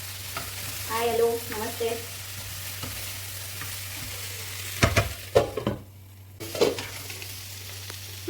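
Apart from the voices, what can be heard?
stirring vegetables in a pan for aloo gobi mattar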